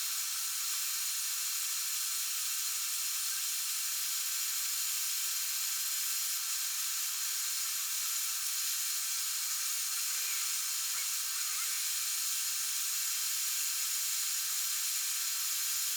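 Hot air rework station blowing steadily on a PS3 board through a big nozzle at medium airflow, a continuous even hiss with no break throughout.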